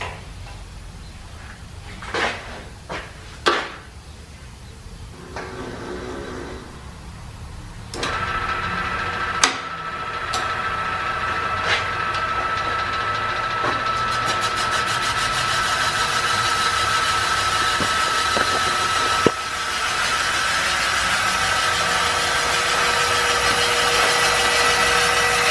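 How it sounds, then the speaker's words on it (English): A steam-powered machine shop with 1890s-style machinery bores a 2 inch hole. A few sharp knocks come first, then a steady, rising mechanical whir and grind that runs continuously to the end, with no talk. "Now we'll bore a 2 inch 300 hole."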